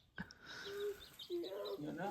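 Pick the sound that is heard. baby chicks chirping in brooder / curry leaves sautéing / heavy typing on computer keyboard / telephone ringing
baby chicks chirping in brooder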